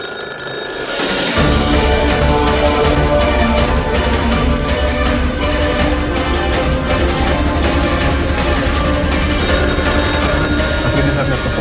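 A telephone bell rings loudly and insistently in an action movie scene, starting after a brief quiet moment and repeating without a break.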